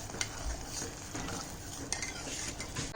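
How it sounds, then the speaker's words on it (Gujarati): Sugar syrup stirred in a pan for Gujarati mohanthal gives a steady, close scraping and bubbling with faint metallic clinks, unbroken for a few seconds and free of speech. "આવી રીતના હલાવતું રહેવાનું, અને બહુ આકરી ચાસણી ના થઈ જવી જોઈએ"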